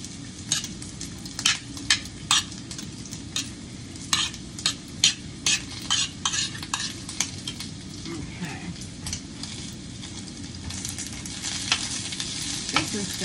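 About two tablespoons of butter sizzle in a pan with Italian sausage: a constant close frying hiss, punctuated by repeated sharp clicks and taps of a utensil against the pan.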